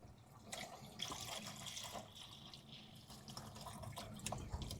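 Coolant draining from a car radiator in a quiet garage, a faint trickle of liquid with scattered drips and splashes, steady and low in level with no voices.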